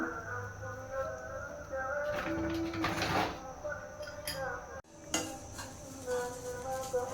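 A utensil stirs and scrapes vermicelli frying in a pan for sheer khurma, soft clinks and scratchy sweeps of metal against the pan under a speaking voice, fairly quiet and close.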